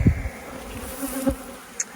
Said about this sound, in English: It's no fun working a yard that's got robbing going on. The bees, all the bees are upset.